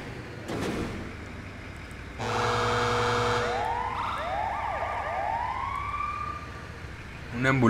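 An ambulance siren wails in a GTA video game, with steady electronic tones rising into repeated sweeping whoops that carry on loudly, mixed with game engine noise and a burst of sound at the end.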